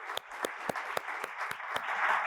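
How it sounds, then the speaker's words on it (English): A small audience at a hospital CEO roundtable forum claps briefly, with a handful of distinct hand claps in an uneven rhythm over a softer, fainter patter, close and moderate in level. "Let's give a round of applause for them."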